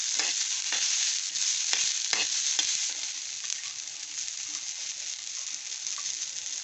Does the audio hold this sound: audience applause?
no